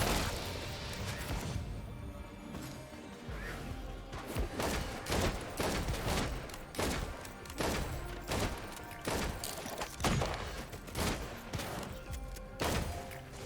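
Sniper rifle fire in the video game Risk of Rain 2: repeated sharp, punchy shots land in an irregular rhythm over a busy background of game effects and music.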